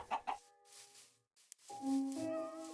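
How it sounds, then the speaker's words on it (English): A chicken in a video game gives a couple of quick clucks, then goes quiet before a longer, louder drawn-out call; close and clear with no talking. "Hi, chicken."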